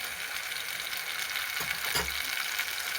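Tomatoes cook in a pan for Kathiyawadi sev tameta with a steady background sizzle, while a couple of brief stirring scrapes rise out of it around the middle.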